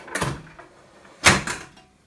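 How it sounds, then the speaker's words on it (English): A pressure cooker lid comes off after the pressure has been released, giving two short clattering, scraping bursts about a second apart, close and fairly loud in a quiet kitchen. "Take the lid off."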